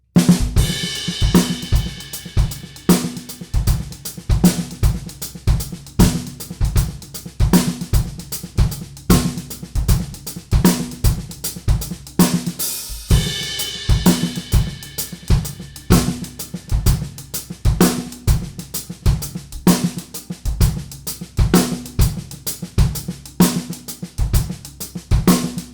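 Drum kit playing a half-time shuffle groove: a steady, loud pattern of kick and snare hits with busy cymbal or hi-hat shuffle strokes throughout, alone and without talk, briefly dropping out midway before resuming.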